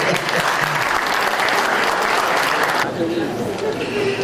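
Loud applause from the audience at a Wonkwang University architecture department 40th-anniversary event, dense clapping that drops off sharply near the end as a voice carries on.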